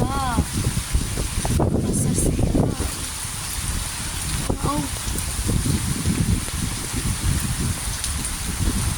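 Heavy rain falls in Sylhet as a steady, broad wash of noise, with people talking over it at close range throughout.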